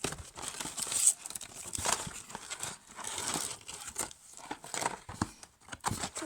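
Brawl Stars card pack wrappers being handled and crumpled, close-up crinkling and rustling in irregular bursts with short quiet gaps between.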